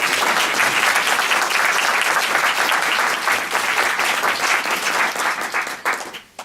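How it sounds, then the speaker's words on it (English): A conference audience at an evening plenary panel applauds steadily for several seconds, a dense loud wash of clapping that thins slightly toward the end. "a big round of applause to everyone who helped put this together"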